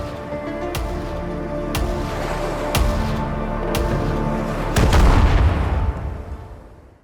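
Heavy cannon fire from naval ships in the pirate video game Skull and Bones, with repeated loud booming shots at roughly one-second intervals and a larger blast near the end, set against a dense ambient rumble.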